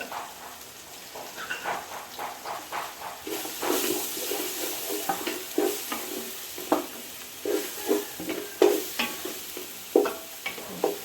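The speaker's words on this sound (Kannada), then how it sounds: "ಸ್ವಲ್ಪ ಈ ಎಣ್ಣೆಗೆ ಕೆಂಪು ಮೆಣಸಿನ ಹುಡಿ ಕಾಶ್ಮೀರ ಚಿಲ್ಲಿ ಪೌಡರ್ ಇದ್ರೆ ಅದು ಹಾಕಿ" Kashmiri chili powder sizzling in frying oil for mutton bhuna masala, a soft bubbling fry broken by repeated sharp stirring and scraping strokes that grow louder and more frequent.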